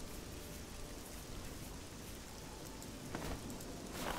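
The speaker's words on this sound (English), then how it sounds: "let's take a seat in the rain" Rain falls in The Elder Scrolls: Oblivion as a dense, steady wash of noise that swells slightly toward the end, with nobody talking.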